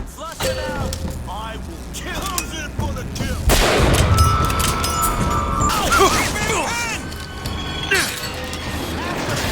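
Rockets launch and explode in the video game BioShock Infinite, with heavy blasts and rumbling impacts amid a chaotic firefight, while voices shout over the noise.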